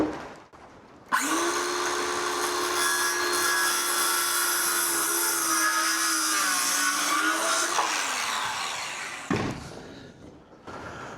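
A power tool trims the edge of a custom wooden entry door for a box truck, whirring up abruptly and grinding steadily for about eight seconds with a slight dip midway before winding down, followed by a brief handling clatter.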